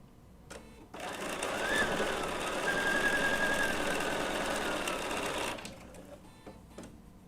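Bernina B790 PRO sewing machine piecing half square triangles, a steady loud mechanical whir running about four and a half seconds with a faint high squeal, starting and stopping abruptly against a quiet room.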